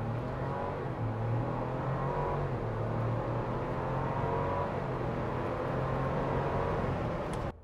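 A Ford Bronco SUV engine roars continuously as it accelerates hard in Baja mode, a deep droning rumble that holds steady and close before cutting off abruptly at the end.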